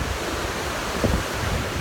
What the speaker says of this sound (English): healing with the sound of the ocean is very powerful